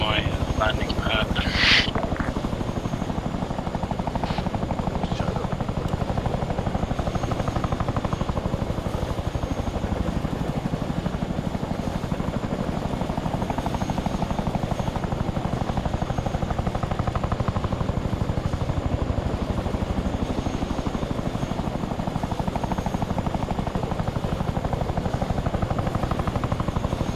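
A military helicopter hovering in the video game Arma 3, a loud, steady rotor and engine drone that fills the whole stretch while people talk over radio-style chatter.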